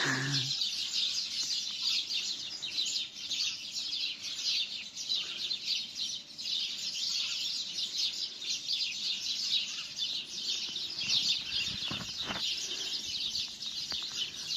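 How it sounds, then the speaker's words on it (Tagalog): Many birds chirp and twitter continuously in the morning, a dense bright chorus close by, with a brief rooster-like call at the start. "awit ng mga ibon sa umaga. Anong sarap pakinggan sa tenga."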